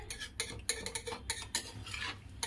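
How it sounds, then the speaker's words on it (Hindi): A spoon stirs khichdi of basmati rice, moong dal and water in a pot, making quick, irregular scraping and clinking strokes against the metal, close and fairly soft, with no talking. "इसे अच्छी तरह चला करके"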